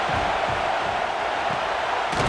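Stadium crowd in the College Football 26 video game roaring loudly and continuously, a dense wall of cheering noise with a brief thump near the end and no clear speech.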